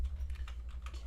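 Quick, light clicks of keys being typed on a computer keyboard, a fast irregular run of soft taps close by over a low background hum.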